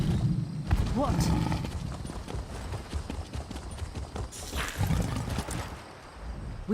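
Horse hooves clip-clop steadily across the ground in the video game Elder Scrolls Online, a close, continuous trotting rhythm with game voices speaking over it.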